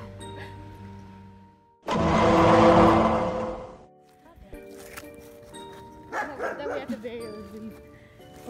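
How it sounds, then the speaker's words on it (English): A dog barks in a loud, dense burst lasting about two seconds, followed by quieter scattered yips and whimpers, with people talking nearby throughout. "They got a dog."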